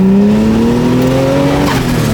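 A turbocharged L28 engine in a Datsun 280ZX pulls hard through third gear, a loud, steady rising drone climbing in pitch for about two seconds, heard close with no talk.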